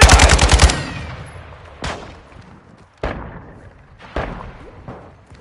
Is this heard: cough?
no